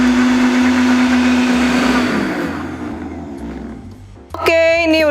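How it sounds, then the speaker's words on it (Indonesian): A vacuum blender whirring through an icy frappuccino mix, steady and loud at first, then its motor tone cuts off and the whir winds down and fades, followed near the end by a brief high-pitched beeping or whistling tone. "karena ini aku vacuum blender"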